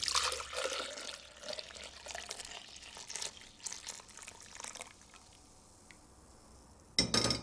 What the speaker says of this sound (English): I'm going to pour this into a jug first